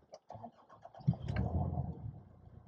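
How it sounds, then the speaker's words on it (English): A Nissan Navara engine cranks and catches after a few short clicks, then settles into a low, steady rumble at close range. "And then start the vehicle,"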